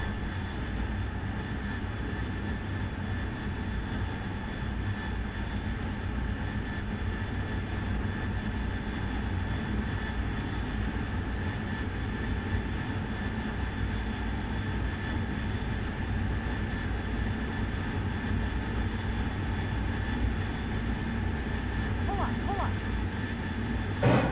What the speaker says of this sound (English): One of the first things that happens in this mission is that the fueling aircraft, tanker aircraft takes off.